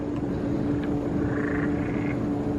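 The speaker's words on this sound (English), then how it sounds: "Here's some frogs too." Faint frog croaks rise briefly over a steady outdoor hum at a Disney resort, a low continuous drone filling the background throughout.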